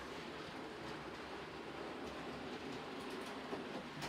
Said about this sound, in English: Here we go, it's coming around.